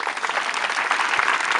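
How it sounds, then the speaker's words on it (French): Children clapping together at an outdoor celebration event in Congo, a dense, steady burst of applause from a crowd, fairly close and continuous throughout with no speech over it. "J'aimerais que vous applaudissiez pour ceux-là qui vous ont accueillis"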